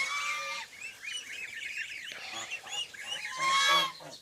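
A flock of domestic geese honks nearby on a farmstead, many overlapping nasal calls in a busy, continuous chorus that grows louder toward the end.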